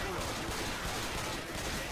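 Gunfire in Left 4 Dead, a dense, continuous wash of rapid shots blending into loud roaring noise for a couple of seconds.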